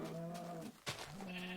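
A Minecraft sheep bleats twice in the blocky game world: a wavering, nasal baa, a short break, then a second higher bleat, close and clear with no talk.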